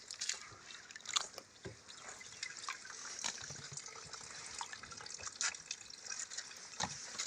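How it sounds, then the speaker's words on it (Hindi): Items are washed by hand in a bucket of water, with continuous splashing and dripping and scattered small sloshes and clinks throughout, moderately close, with no talk over it. "ये जो है ना इस बाल्टी में ऐसे ही धोए जा रहे हैं"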